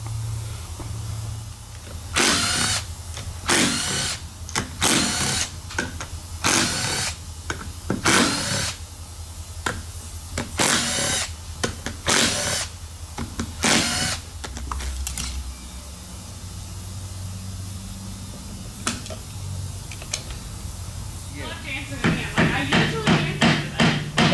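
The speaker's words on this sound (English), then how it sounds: "we're going to loosen all the bolts on this side" Bolts being loosened on the cases of a KTM 300 two-stroke motor during a teardown, heard as a close series of loud bursts from a power tool in quick succession, a pause, then another rattling run at the end.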